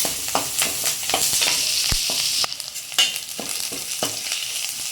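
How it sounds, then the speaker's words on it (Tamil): Onions and garlic sauté in a pan for a tamarind okra curry, a close, continuous sizzle with repeated scraping strokes of a stirring spoon and no voices. "நம்ம போட்டிருக்க வெங்காயம், பூண்டு இதெல்லாம் வந்து ஓரளவுக்கு நல்ல கோல்டன் கலராக வர வேணால் வதக்கலாம்."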